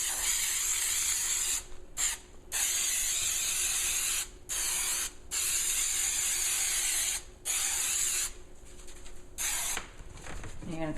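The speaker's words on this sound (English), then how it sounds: "We're going to make sure we spray the wrong side." Aerosol glue sprayed onto the liner of an Indian motorcycle saddlebag, in repeated long hissing bursts broken by short pauses, close and steady throughout.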